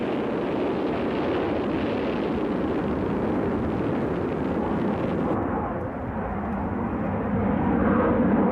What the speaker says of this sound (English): At exactly 8:38, the Valkyrie took to the air for the first time to begin a series of epoch-making test flights.